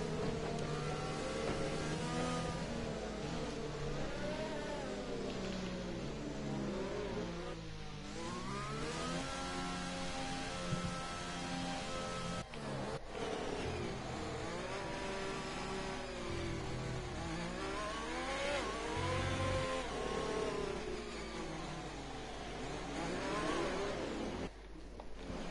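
Race cars in a Formula racing video game at the Belgian GP drive to the grid, their engines whining and revving up and down in repeated rising sweeps, steady and moderately loud with no talk.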